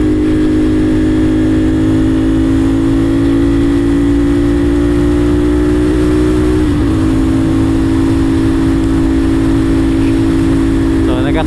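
A CFMOTO 450SR motorcycle engine drones loud and close, its pitch climbing steadily as it accelerates on a road, with wind rush throughout and a quick rev change near the end.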